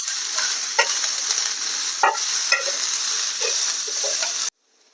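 Garlic cloves and onion sizzle in hot oil, a bright close frying hiss broken by stirring clicks and scrapes, which ends abruptly near the end.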